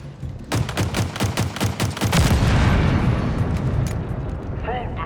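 Rapid bursts of gunfire in Halo Infinite, a run of sharp repeated shots followed by a dense, sustained roar of combat noise under game effects.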